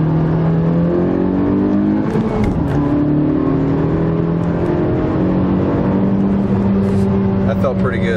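A tuned turbocharged 2017 Honda Civic Si running 24 psi of boost on a stock clutch accelerates hard, its loud engine drone climbing through rising pitch sweeps from inside the car, with voices talking over it.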